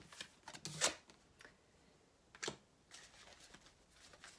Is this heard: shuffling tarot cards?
yes